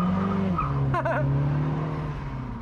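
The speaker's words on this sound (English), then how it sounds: "it's the nice turbo noises that it makes. You not only hear whooshing," A 2023 Mini Cooper S Cabriolet with a 180-horsepower turbocharged engine drones steadily and loudly up close, with a brief whooshing flutter rising over the engine note about midway.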